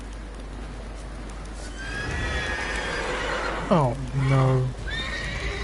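A horse neighs loudly in The Witcher 3, a drawn-out whinny over steady background game sounds, with a person's voice briefly speaking nearby.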